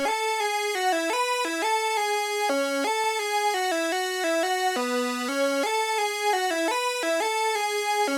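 A bright Serum synth lead with its chorus effect turned all the way up plays a stepping melody of sustained, buzzy notes, wide and shimmering, with no voices over it.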